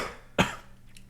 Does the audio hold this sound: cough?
yes